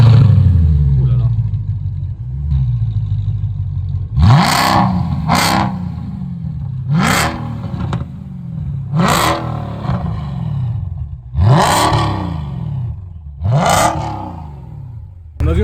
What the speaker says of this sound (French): Le moteur V8.